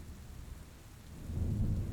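Steady rain with a low rumble of thunder swelling toward the end, a stormy night outdoors, no voices over it.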